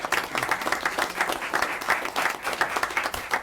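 A board of education meeting audience claps for staff who developed an implementation plan, a lively, uneven spatter of individual hands from a modest crowd, close and clear with no speech.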